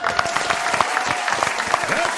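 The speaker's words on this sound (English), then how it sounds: "Give a load of round of applause." Podcast studio audience clapping and whooping briefly, a lively burst of applause mixed with voices close by.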